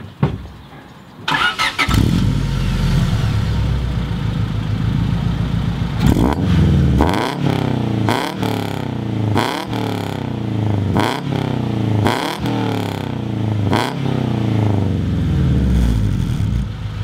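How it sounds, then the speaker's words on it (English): A Honda Civic EK with a Performance D Series UEL header cranks and catches, idles with a rough rumble, then is blipped through a string of sharp, rapid revs, loud and close. "I just wanted to give you a quick comparison of the EK and the STI and the way it rumbles"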